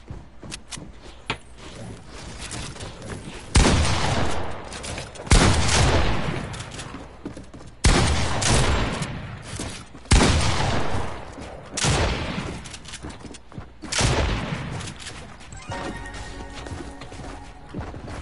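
Rapid bursts of Fortnite gunfire crack out in several loud clusters, separated by quieter stretches of game noise and footsteps, with no talking over the shots.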